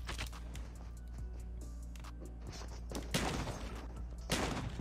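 Gunfire in the Call of Duty Mobile video game during a shotgun-versus-knife match, with dense bursts of shots and thumps over a steady game background, louder spikes near the end.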